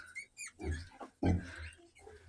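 A Vietnamese pot-bellied pig makes a run of short, low grunts and snuffles close by, some soft and some louder, with brief pauses between them.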